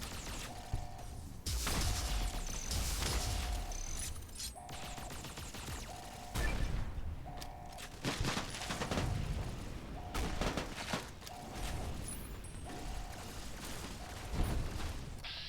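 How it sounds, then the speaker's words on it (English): Gunfire crackles in the Fallout game, a dense, steady volley of sharp shots and impacts running throughout, backed by a repeating tonal beep and scattered mechanical clatter. "What the fuck is shooting at me?"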